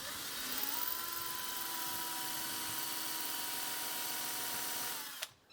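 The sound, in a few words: countersinking drill bit drilling a screw hole in a wooden stool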